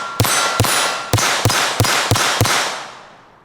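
Seven quick CCI Mini-Mag .22LR gunshots fired at point-blank range near steel targets, each sharp crack ringing with a metallic clang, spaced irregularly and fading into a ringing tail.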